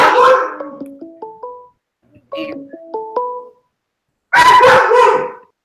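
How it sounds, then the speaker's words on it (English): A dog barks loudly and close by in a home during an online meeting: a run of short pitched yips, then a pause, then a harsher, fuller burst of barking near the end. "Your dog is loud."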